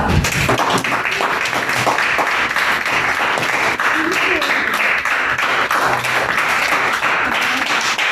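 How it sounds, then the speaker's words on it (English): A loud, sustained round of applause fills a room at a Diwali-themed Gavel Club meeting in Dubai, with dense, continuous clapping and some voices mixed in. "Very loud round of applause"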